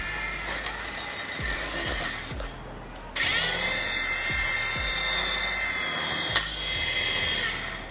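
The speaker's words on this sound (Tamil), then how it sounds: "ஹெலிகாப்டர் பறக்குமா பறக்காதா? பறக்குது." A small toy RC helicopter whines in flight, a high electric buzz that rises sharply after a quieter start and holds steady and close, with scattered thumps and knocks.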